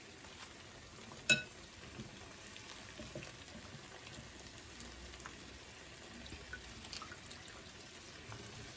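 Squeezed bitter gourd (karela) hits a hot wok, making a soft, low crackling sizzle after one sharp tap near the start, with faint scattered pops throughout and no talk.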